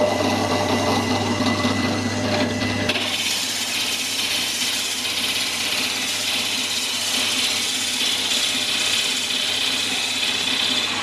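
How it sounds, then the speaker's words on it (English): A power drill runs continuously, grinding and rasping as a Forstner bit bores into the end grain of hardwood, the tone shifting slightly early on, loud and close. "So this is drilling into the end of the grain"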